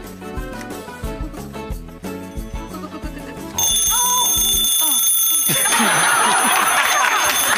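A loud alarm clock, chosen as a gift for its volume, starts ringing about halfway through and keeps going as a steady, bright, continuous tone, following a stretch of busy music-like background.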